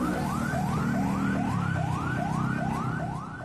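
Fire engine sirens from dozens of fire trucks responding to a building fire, wailing in a steady repeating rise-and-fall pattern, loud and continuous over a low traffic rumble.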